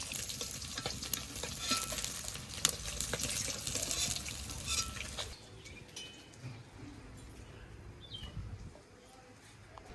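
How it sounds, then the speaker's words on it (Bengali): Pieces of silver carp fry in hot oil, giving a loud, crackling sizzle with sharp pops for about five seconds before it drops to a softer, steady hiss. "এই তেলে বাকি মাছগুলো ভেজে নেবো।"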